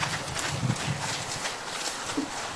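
Hooves of a horse walking in a round pen during groundwork training in Auburn, California, a few soft thuds in a loose, uneven rhythm over steady outdoor background noise, with no talk.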